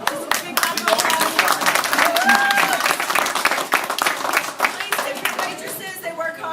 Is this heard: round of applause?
yes